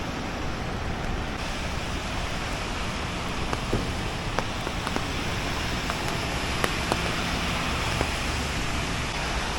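Steady rain falls on a New York City street near Fifth Avenue and 43rd Street on a wet Sunday morning, a dense continuous hiss with a few faint sharp ticks scattered through it and no talk.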